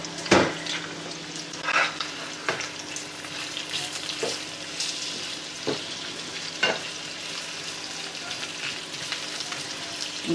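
Food sizzles steadily in a pan, with a few sharp clicks and scrapes of stirring scattered through, fairly close and without any talk.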